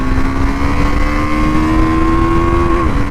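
A KTM Duke 390 motorcycle accelerating in a top speed test, its loud, close engine note holding a steady rising whine before easing off sharply at the very end.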